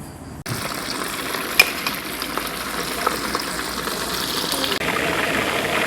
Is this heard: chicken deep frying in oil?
yes